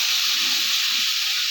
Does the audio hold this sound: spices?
yes